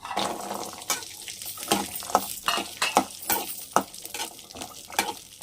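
Kalimi fruits, cleaned and seeded, frying in oil, a crackling sizzle with frequent clattering stirs and scrapes against the pan in a busy, uneven rhythm, close and without talking.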